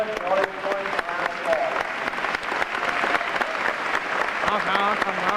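A high school graduation audience gives a round of applause for the graduating seniors, a dense, continuous clapping from a large crowd, with some voices calling out over it.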